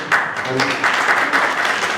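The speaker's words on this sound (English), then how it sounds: "Give him a big clap for coming up" Audience applause at an engineering school programme launch in Kanjikode, sustained clapping with a dense, steady texture and some voices mixed in.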